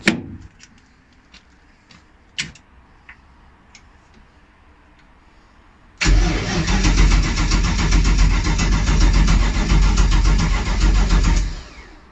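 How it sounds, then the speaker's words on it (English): A few sharp ticks and clicks, then a freshly rebuilt BMW M60B44 V8 engine cranks and roars to life on first start, running at a loud, deep, steady idle before cutting off near the end. "Let's fire it up."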